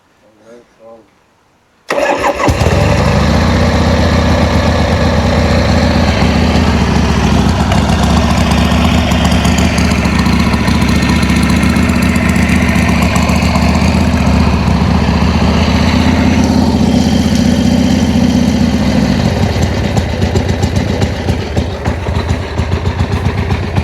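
A 1981 Harley Davidson Sportster 1000 engine starts abruptly after a quiet moment, then settles into a loud, steady, close idle with an even throbbing rumble that lasts to the end.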